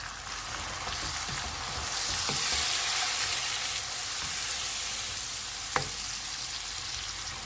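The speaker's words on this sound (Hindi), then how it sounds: "प्याज फ्राई हो गए हैं, इसमें टमाटर डालेंगे। सारे मसाले डालेंगे।" Onions and tomatoes fry with spices in a pan for an egg curry, a loud continuous sizzle close up with occasional scraping and stirring clicks.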